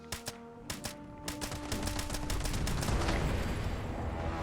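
Gunfire in Fallout 76 as the Grafton Monster is shot: a few spaced single shots give way to a rapid, continuous burst of automatic fire amid game noise, with no talking.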